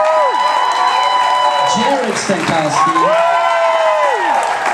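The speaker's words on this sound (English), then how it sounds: "Big round of applause." Awards ceremony audience applauding and cheering loudly and continuously while an announcer reads out a name over the crowd.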